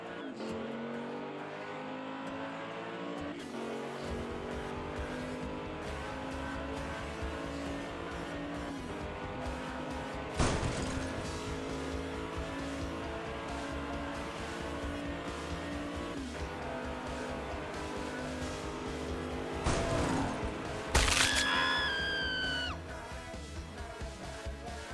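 Hot Wheels die-cast toy cars, a Jaguar E-Pace against an NSX, rolling down a racing track; a steady rolling whir with sharp clacks and whooshes near the end, where a short whistle-like squeal also rises.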